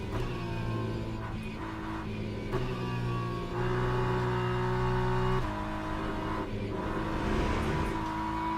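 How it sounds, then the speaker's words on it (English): A sim-racing game car engine drones and shifts pitch, with rough rumbling bursts as tyres run over kerbs, steady and close. "The curbing sound there sounds really good."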